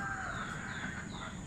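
A chicken on a farm giving drawn-out clucking, crowing-like calls, steady and fairly close, over a constant background with no speech.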